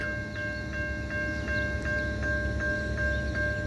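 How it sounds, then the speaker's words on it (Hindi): Two-storied local train at a road rail crossing with the gates down, a steady loud rumble of the passing train under a repeating high crossing-signal tone that pulses at a regular beat. "और ट्रेन आसते थाकले एरकम आवाजटा होते थाके"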